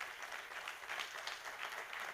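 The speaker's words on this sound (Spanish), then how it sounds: "Hermanos, un aplauso," A church congregation at a Sunday service claps together, a soft, even wash of applause held steady in the distance with no voices over it.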